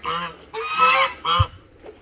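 A goose sitting on a nest inside a small chicken house gives three loud, harsh honks in quick succession, close by, followed by a faint fourth call.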